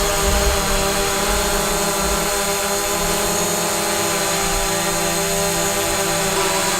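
A DJI Mavic drone fitted with regular propellers hovers nearby, giving off a loud, constant high-pitched buzzing whine with a steady tone throughout.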